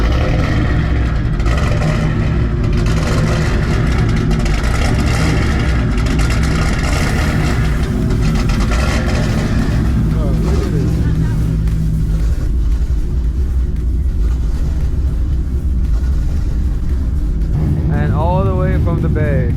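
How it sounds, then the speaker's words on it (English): A Corvette with a very aggressive camshaft idles and revs in a loud, continuous rumble that fills the whole stretch, the lumpy engine note dominating throughout, with a voice speaking over it and a higher whistling tone rising near the end. "I don't know if you can hear this car, but that cam on this car is insane."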